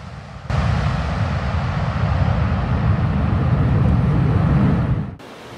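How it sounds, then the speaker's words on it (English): A Boeing 767 airliner lands on a snow runway in Antarctica, a loud, steady roar of engines and rushing air rising abruptly, holding for several seconds, then cutting off sharply. "The 767's landing was also filmed from the ground, showing the impressive snow cloud created."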